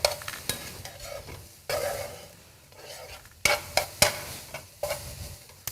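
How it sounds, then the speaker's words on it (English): Ginger, garlic and green chili sauté in a pan for yellow curry, a soft close sizzle broken by repeated sharp scrapes and clinks of a utensil stirring. "And let us saute a little bit more."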